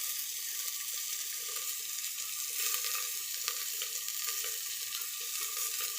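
Mustard seeds and onions frying in a pan for a bottle gourd and masoor dal dish, a steady close crackling sizzle that fills the whole stretch without pause and with no voices.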